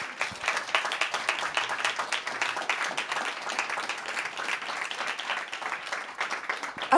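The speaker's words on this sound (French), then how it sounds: "Vous pouvez applaudir tous nos intervenants." An audience at a round-table talk applauds steadily and densely for several seconds, the clapping close and continuous.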